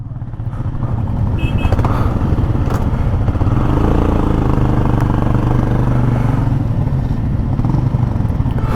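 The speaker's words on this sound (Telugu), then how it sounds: "మా బైక్స్ ఇంకా వస్తున్నాయి చూడండి" Motorcycles run along a mountain road on the way to Jalori Pass, a loud, continuous mid-pitched engine rumble staying close and steady for the whole stretch, with faint rattling mixed in.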